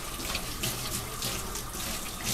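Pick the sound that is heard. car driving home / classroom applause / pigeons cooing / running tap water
running tap water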